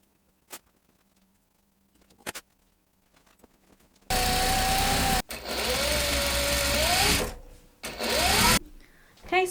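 A sewing machine stitches fabric patches together for a tea towel skirt, running in several loud whirring bursts of a few seconds each, starting and stopping, with quiet handling sounds between runs.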